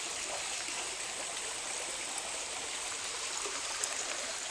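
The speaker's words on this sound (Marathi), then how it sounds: "त्या बंधाऱ्यावरनं पाणी पडत आहे आणि असं चाललंय मस्त पैकी ओढ्याने पाणी" Stream water spilling over a small check dam after unseasonal pre-monsoon rain, a soft, steady rushing trickle heard from some distance, continuous and fairly quiet with no voices.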